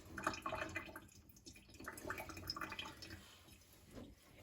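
Whey trickles and drips from cheese curd in a cheesecloth while making quark cheese, a steady wet splattering and dribbling that swells and eases, close and continuous with no talk.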